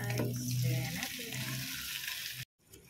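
Chicken pieces hit a hot pan for curry, setting off a steady loud sizzle of frying with some stirring and a tonal hum, cut abruptly near the end.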